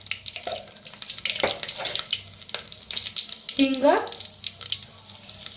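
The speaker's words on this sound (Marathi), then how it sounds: "ती तेल चांगलं गरम झालंय. ज्यात टाकूया मोहरी." Mustard seeds, with cumin, hitting well-heated oil in a pan while bitter gourd is cooked, giving a close, quiet crackle and sizzle with scattered pops under a voice.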